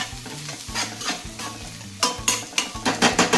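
Ginger sautéing in a pan, sizzling steadily while a spoon scrapes and stirs in repeated strokes, close and fairly loud with clinks against the pan.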